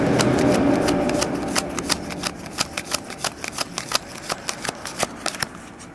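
Cards from a 2009 Donruss Gridiron Gear football box are riffled through quickly by hand, a fast run of crisp, close flicks and snaps following a softer shuffling start.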